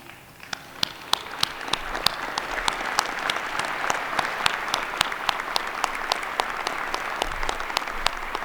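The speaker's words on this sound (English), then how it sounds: "Graduates, would you please stand and join me in a round of applause to thank our families." Graduates and families applaud at a business school recognition ceremony, a dense, sustained round of clapping from a large indoor crowd with sharp individual claps standing out throughout.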